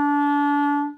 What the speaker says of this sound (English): Next note up is E. You just pick up the next finger.